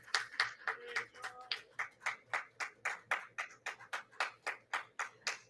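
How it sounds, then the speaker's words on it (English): Steady, rhythmic clapping at a Saybrook University anniversary gala honouring a faculty award winner: one or a few nearby hands beating evenly, about three claps a second, with no voices. "Applause."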